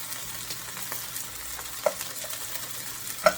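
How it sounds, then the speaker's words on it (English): Rice toasting in hot oil in a pan for beef tips and rice pilaf, stirred with a utensil: steady soft sizzle with a few light scraping clicks, close and alone. "Give our rice a stir."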